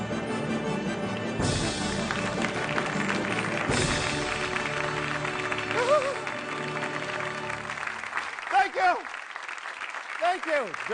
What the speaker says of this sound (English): Give Sophie a round of applause.